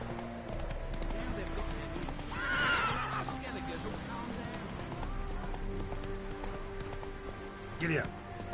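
A horse gallops in The Witcher 3 video game, its hooves clip-clopping in a steady rhythm, with a whinny and a short voice call partway through.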